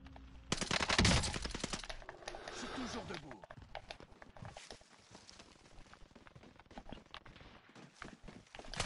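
Gunfire in the video game Warzone, with rapid automatic bursts loudest near the start and then scattered shots and footsteps while a player talks over it.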